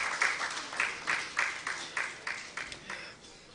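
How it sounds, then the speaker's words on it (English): Rhythmic group clapping from an audience at the official launch of a Nigerian plastics-economy initiative, about ten steady claps spread across a few seconds, moderately distant and fading slightly toward the end. "another round of applause for him"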